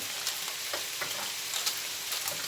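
Adana kebab patties cooking in a toaster grill, with pooled juices spooned back over them, give a steady close sizzle and faint soft taps of the spoon.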